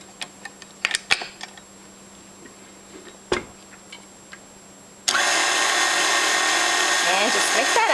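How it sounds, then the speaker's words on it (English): A KitchenAid stand mixer with a dough hook starts up mixing pretzel dough, a sudden loud, steady motor whir that follows a few sparse clicks and taps and runs without pause to the end. "we're going to use the dough hook on our KitchenAid mixer"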